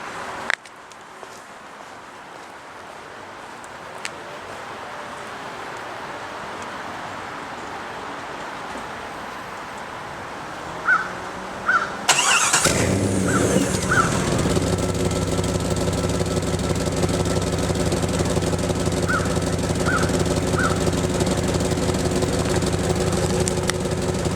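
Quiet outdoor ambience, a few clicks, then a Jeep ZJ 5.9 engine with a high-flow catalytic converter cranks and fires into a loud, steady rumbling idle through the exhaust.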